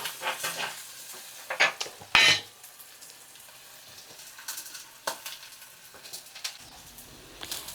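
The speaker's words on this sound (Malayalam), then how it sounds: "കാന്താരിമുളകും കൊച്ചുള്ളിയും വെളുത്തുള്ളിയും ഇഞ്ചിയും ഒക്കെ ഇട്ട് ഒന്ന് വഴറ്റിയെടുക്കുവാണ്." Bird's eye chilies, shallots, garlic and ginger sautéing in hot oil, with a crackling sizzle and sharp bursts of stirring and scraping in the pan, one loud clatter early on, then quieter intermittent stirs.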